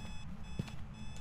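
A radio beeps in the Phasmophobia ghost-hunting game, a thin high steady tone with one faint short blip, quiet and alone.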